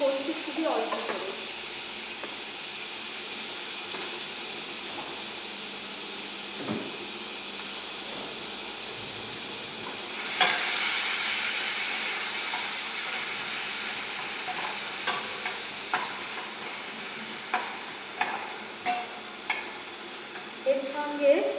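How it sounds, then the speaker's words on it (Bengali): Ginger, garlic and onion paste frying in a pan for a small biryani, a steady soft sizzle and hiss that swells louder midway, with occasional stirring scrapes and clinks. "এবারে এখানে আমি আদা রসুন আর পেঁয়াজের যে পেস্ট সেটাকে দিয়ে দিলাম"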